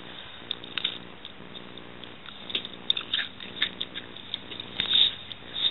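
Close-up crunching of someone biting and chewing a tortilla with melted Swiss cheese outdoors in the woods, with irregular crisp crackles over a low steady hiss.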